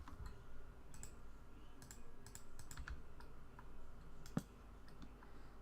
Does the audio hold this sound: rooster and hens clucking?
no